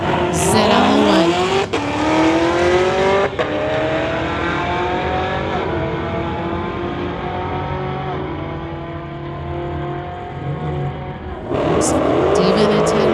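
A 2020 Camaro ZL1 street-legal drag racer launches down the strip with a loud revving engine and rising gear-change whines, the roar fading as it pulls away, then another sharp burst near the end, with an announcer talking over it.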